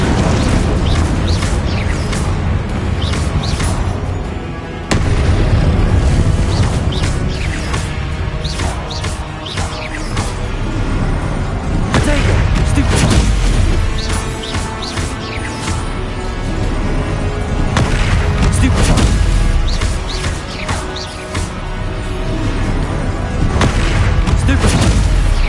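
Confringo fire spell blasts in Hogwarts Legacy erupt as repeated booming explosions in a chaotic magical duel, loud and layered with crackling impacts and rumbling, with voices calling out over the combat.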